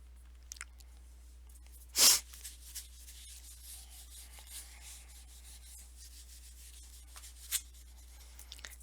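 Pen scratching and rubbing on paper while sketching a graph, faint close strokes with one louder scrape, no talking.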